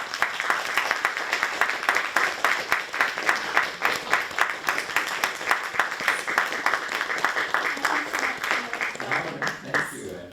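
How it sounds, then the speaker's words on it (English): An audience at a university evening talk applauds, steady massed clapping in a hall that holds for several seconds before thinning out and fading at the end. "give her a big round of applause."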